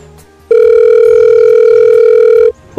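A telephone tone sounds as one loud, steady electronic beep lasting about two seconds, clear and close with nothing else over it.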